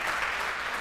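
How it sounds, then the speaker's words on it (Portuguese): Congregation applause during a church service, a dense, steady wash of many hands clapping together for a brief moment with no break. "Dá um aplauso a Jesus."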